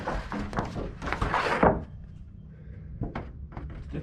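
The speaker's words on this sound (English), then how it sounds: "Door." A door swings open or shut in an old NASCAR race shop, a short wooden thunk and rattle that stands out from the background before the space falls quiet.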